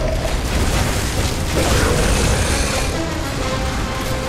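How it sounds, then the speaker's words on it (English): A frag grenade blast in Gears of War 3, a broad, heavy boom swelling in the middle of a loud, noisy battle rumble, with no voices over it. "let's throw some frags"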